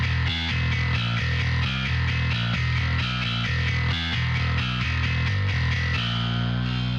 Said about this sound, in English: So the next thing I added was a bass just kind of leading into that riff.